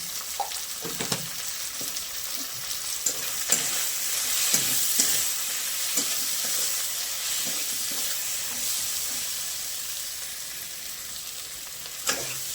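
Ground spices and softened tomato fry in a hot pan, a steady broad sizzle close by with scattered scraping and stirring knocks from a utensil against the pan.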